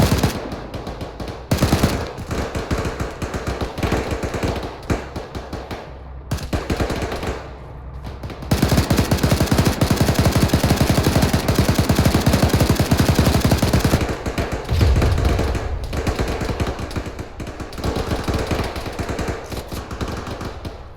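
Sustained automatic gunfire fills a militia firefight in Arma 3 set in Kujari, with dense machine-gun bursts and rapid shots, a few brief lulls between heavy volleys, and loud booming impacts near the end.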